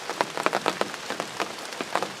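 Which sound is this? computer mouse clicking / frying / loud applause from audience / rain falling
rain falling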